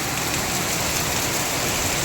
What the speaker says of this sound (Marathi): भरपूर पाऊस आहे ना, इतका ना की मला वाटतं तर सगळीकडे पाणी साचलेलं आहे